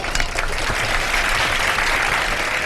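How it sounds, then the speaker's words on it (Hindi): A studio audience claps steadily and loudly through the whole stretch, a dense wash of applause with no talking over it, on a Pakistani Ramadan iftar transmission with hosts Junaid Jamshed and Waseem Badami. "बहुत सारी तालियां इनके लिए"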